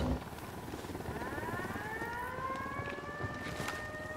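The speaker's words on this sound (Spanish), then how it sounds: "Viene un helicóptero." A helicopter approaches in the video game Ghost Recon Wildlands, a steady rotor drone with rising whine-like tones that slowly builds and holds over several seconds, with no talk over it.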